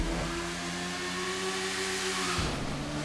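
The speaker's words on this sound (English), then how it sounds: "Not even touching the handlebars and it's revving up." Hakuchou motorcycle engine in GTA 5 Online holding a steady, loud mid-pitched rev for about two and a half seconds, then dropping off sharply near the end, with no talk over it.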